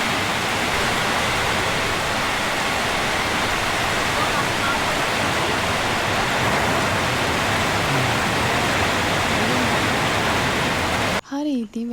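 Heavy off-season rain on Sri Pada mountain pours as a dense, steady roar of broadband hiss that fills nearly the whole stretch, then cuts off abruptly as a voice briefly speaks at the very end.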